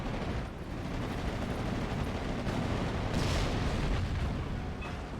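Dense, continuous battlefield barrage of artillery fire and gunfire in the WWII strategy game Steel Division, with rumbling booms and crackling shots overlapping throughout and no pauses.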